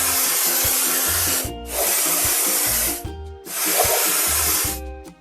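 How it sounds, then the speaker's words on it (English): Paint sprays over rusty spots on a toy construction machine in two long hissing bursts with a short pause between them, set against a light, bouncy backing tune. "Let's paint over the discolorations."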